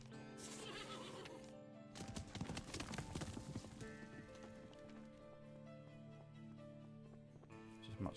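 Hooves of a horse ridden at speed in the video game Above Snakes make a quick, continuous clip-clop drumming under a patter of rain and a neigh near the start, with faint tonal game sounds in the background.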